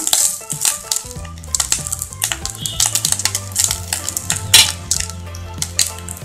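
Cooked, cooled rice being stirred and fried in a pan, with a spoon scraping and clinking against the metal in quick irregular strokes over a soft sizzle.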